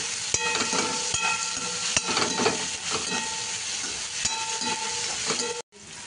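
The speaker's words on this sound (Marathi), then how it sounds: "तोही फ्राय करून मऊ करून घ्यायचा" Onion and tomato fry in a pan for a cauliflower and potato bhaji, giving a steady close sizzle with periodic scraping clicks from stirring, continuous until a brief cut near the end.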